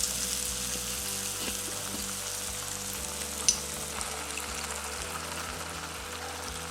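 Malpura pitha batter poured spoonful by spoonful into hot oil over a lowered gas flame sizzles in a steady, fine crackle up close, with faint clicks and one sharper tap along the way.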